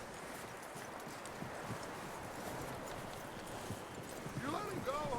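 Horse hooves clip-clop in a steady walking rhythm in Red Dead Redemption 2, set in a stormy outdoor scene with wind-like ambience and faint background voices.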